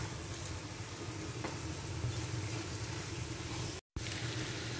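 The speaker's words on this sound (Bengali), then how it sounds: "চিকেনটাকে অ্যাড করে এটাকেও ভালো করে মিক্স করে নিতে হবে।" Chicken fries in oil in a pan, a steady close sizzle with soft stirring movements underneath, briefly cut off near the end.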